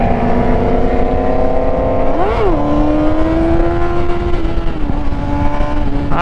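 A Ford Mustang GT engine revs hard in a full-throttle run, with a loud, close, sustained roar. The pitch rises, dips briefly at a gear change, then holds steady, with a high whine over the engine.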